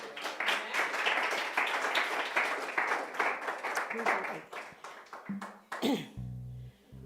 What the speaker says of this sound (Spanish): vamos a dar un aplauso al Eterno